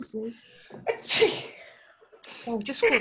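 A sharp single sneeze bursts out during a math class, preceded and followed by brief talking in the room.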